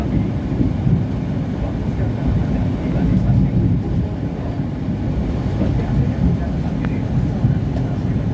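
The KA Bangunkarta stainless steel train arrives at Purwokerto station, a steady loud rumble of wheels and engine that holds evenly throughout without pause.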